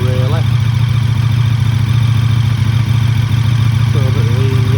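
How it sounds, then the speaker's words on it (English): A KTM 1290 Super Duke RR fitted with a Spark Konix Evo titanium exhaust idles with a deep, steady, even low rumble, close and loud, while someone briefly talks over it. "I can tell already that there's a deeper sound to that exhaust"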